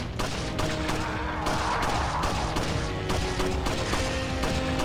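Rapid bursts of gunfire from the video game Resident Evil 4 Separate Ways, on PS3, crackle in close, repeated volleys with short gaps, loud and continuous across the stretch.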